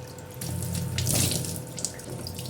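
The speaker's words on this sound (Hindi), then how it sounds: "मैं किचन में मुँह धोने चली जाती हूँ" A kitchen tap runs steadily into a sink as someone washes their face, the splashing stream swelling briefly in the middle, with no voices.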